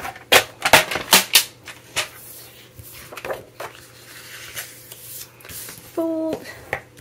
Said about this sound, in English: we're going to score at the 1/2 inch mark